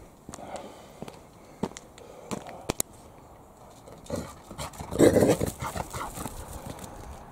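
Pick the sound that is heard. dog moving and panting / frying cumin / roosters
dog moving and panting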